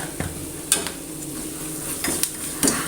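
Chicken for chukka frying with garam masala in a pan, a steady close sizzle with periodic scrapes and light clinks of a spoon stirring.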